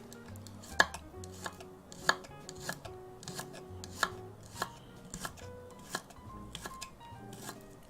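Knife finely slicing spring vegetables on a wooden board, a quick irregular run of crisp taps and cuts heard up close at moderate volume, with faint background murmur and no clear talking.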